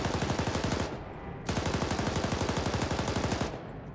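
Loud, fast automatic gunfire in the military shooter Arma 3, two long sustained bursts separated by a short pause, close and dominant with no talking.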